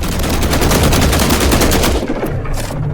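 Rapid bursts of automatic gunfire in The Last Caretaker, a loud continuous volley of shots for about two seconds, then tapering into a few scattered, quieter shots.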